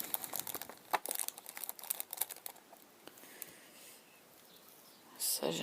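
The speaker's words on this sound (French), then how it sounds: "Je déballe et je range." Craft materials for flower-making, such as satin ribbon, are unwrapped and put away, giving off irregular bursts of close plastic crinkling and rustling, then a quieter pause before a louder crumple at the end.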